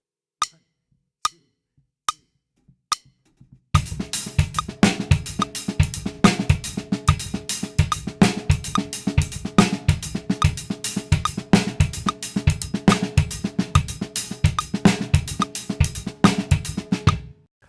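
A drum pattern in five-beat time with single kick drum hits, opening with four sparse count-in clicks and then a loud, dense, steady groove of kick, snare and cymbals, no talking.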